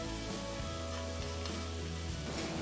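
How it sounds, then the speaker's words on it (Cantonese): Beaten egg sizzles in hot sauce heating in a pan, a steady close crackling hiss that holds evenly throughout. "我哋就將頭先嘅汁攞返出嚟，煲緊熱佢，然後我哋就加入一隻打勻咗嘅蛋入去"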